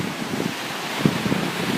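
Steady wind blowing outdoors near the sea, a constant broadband rush with soft low gusts and faint surf beneath, no voices.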